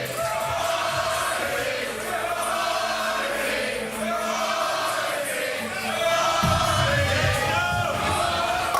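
Bowling crowd at the 2019 PBA Playoffs first round cheering and yelling steadily throughout, a dense roar of voices that swells louder near the end.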